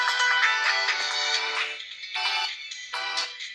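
A Redmi 15C phone speaker plays a ringtone-like melody at maximum volume, bright tonal bursts with short pauses between phrases, fairly loud and clear with no talk.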